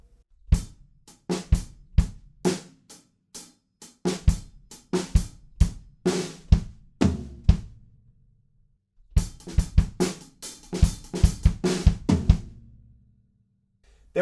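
Drum fill played on a kit: rapid runs of snare and tom hits in two bursts separated by a brief pause, close and dry with no voices.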